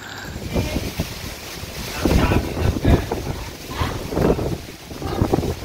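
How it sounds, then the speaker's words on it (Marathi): Strong wind blows outdoors in the Konkan countryside beside a wood-fired clay stove, gusting and buffeting the microphone in uneven rumbling surges that rise and fall across the whole stretch. "खूप जोरात वारा येतोय ना."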